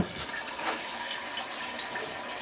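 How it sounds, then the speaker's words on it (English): Water pours steadily from a tap into a gallon jar, a continuous close rushing splash that holds even for a couple of seconds with no voices. "fill up a gallon jar with water"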